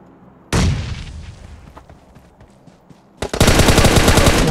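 Gunfire in a shooting video game: a loud burst of automatic fire, a lull of scattered shots, then another sustained rapid volley, close and harsh.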